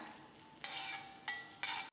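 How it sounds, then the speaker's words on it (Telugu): Cashews and raisins frying in ghee for Hayagriva payasam, with three bursts of scraping stirring over a soft sizzle, close and fairly quiet, with no talking. "జీడిపప్పు కిస్మిస్ వేసి వేయించుకుందాం."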